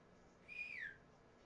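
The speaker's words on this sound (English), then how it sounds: "Did you hear a whistle?" A single short whistle rises and slides down in pitch inside the Inside the Backrooms video game, faint and distant over a quiet low background hum.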